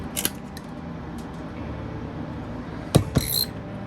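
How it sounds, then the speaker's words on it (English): Two quick scissor snips, close and crisp, cut the rigging thread of a 1:200 scale HMS Victory wooden ship model kit, the second cut following a few seconds after the first with quiet room ambience between. "now, we can snip this one as well."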